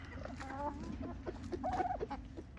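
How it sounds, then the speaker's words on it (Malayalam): Chickens cluck softly in a small group, scattered calls rising and falling over a steady background hum, faint and a little distant. "കോഴികൾക്ക് കൊടുത്താൽ അവർക്ക് അന്നൊരു ഉത്സവമാണ്"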